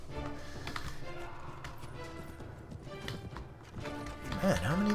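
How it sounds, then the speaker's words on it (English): Horse hooves clip-clop in the Prophesy of Pendor video game, a quick patter of taps under a voice and busy game sounds, ending with a rising whinny. "Now we have a horse."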